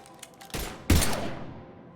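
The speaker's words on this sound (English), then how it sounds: "Now open fire!" A short burst of gunfire in Mass Effect 3: a softer shot lands first, then a sharp, louder blast follows and rings out in a fading echo, all close with no voices.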